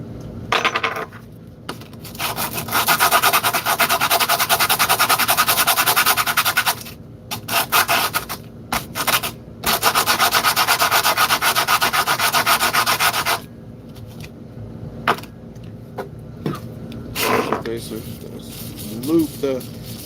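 Wood being sanded by hand with sandpaper in a workshop: long bursts of steady scratchy rubbing broken by short pauses, close and fairly loud, with faint voice sounds near the end.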